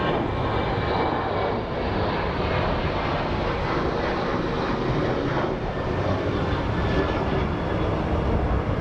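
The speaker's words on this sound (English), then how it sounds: "it shows that the A350 is actually churning right now" An Airbus A350 jet engine roars at Sky Harbor International Airport, a continuous loud broadband rumble with no talk, steady throughout.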